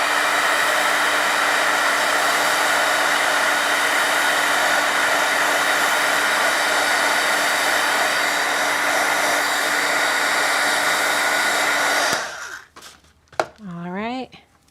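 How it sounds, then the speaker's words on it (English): A crafting heat tool blows hot air to dry pigment ink on craft paper, a loud, steady whirring roar held up close for about twelve seconds before it shuts off, followed by brief handling noises. "I'm going to hit this with my heat tool just a little bit, just because I'm afraid that pigment ink's not completely dry."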